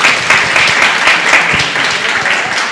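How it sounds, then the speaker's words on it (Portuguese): An audience at a typography conference in Belém applauds steadily for a few seconds, a dense wash of clapping with no speech over it. "Palmas aí para a Tátil"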